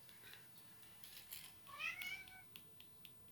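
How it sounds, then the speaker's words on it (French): A cat gives one soft, rising meow, faint and fairly close, amid quiet scratching and rustling sounds. "Oui, le chat, qu'est-ce qu'il y a?"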